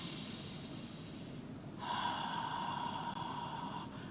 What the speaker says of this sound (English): So you inhale through your nostrils and you exhale with a